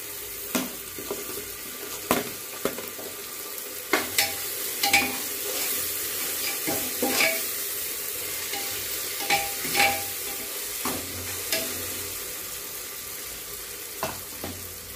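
Ingredients for Nilanga rice sautéing in a pan, an even sizzle punctuated by repeated spatula scrapes and taps at an irregular rhythm.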